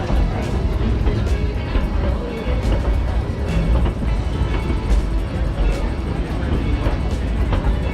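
The Dollywood Express, a heritage train, rolls toward the depot with a deep, continuous rumble of passenger cars and faint rhythmic clicks and rattles from the track, steady and close throughout.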